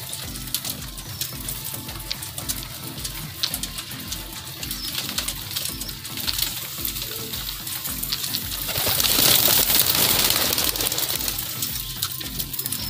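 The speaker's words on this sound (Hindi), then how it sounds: "कबूतर कैसे दाना चुग रहे हैं" Pigeons at a loft in Andheri West, Versova, feeding on mustard seed, lentils and millet: steady dense pecking and fluttering with soft cooing, a louder rush of wings or water midway, close and continuous.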